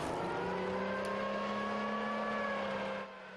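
An M113 armored vehicle on the road out of Bakhmut approaches with a loud, steady engine drone whose pitch rises gradually, then cuts off suddenly near the end.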